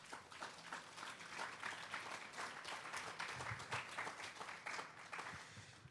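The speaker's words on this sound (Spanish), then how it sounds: "Vamos a darle un fuerte aplauso al Señor." A church congregation gives loud, sustained applause during a Spanish-language sermon, a dense wash of many hands clapping steadily for about six seconds with no voices on top.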